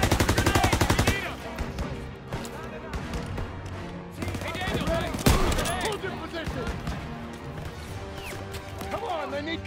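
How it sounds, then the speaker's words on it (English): Rapid bursts of machine gun fire in Call of Duty WWII, opening with a fast loud rattle and followed by scattered shots and impacts while soldiers shout over the battle. "Suppressive fire! Keep firing!"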